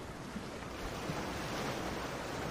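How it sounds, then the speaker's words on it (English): Ocean waves surging and washing in a continuous broad roar, steady and full with a slight swell, no voices. "I chose this sound because there's a reason that the ocean is appealing to all of us"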